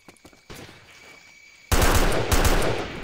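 Gunfire in the video game HmS Operation Stealth: a few faint shots, then a loud, dense burst of automatic fire that keeps rattling to the end.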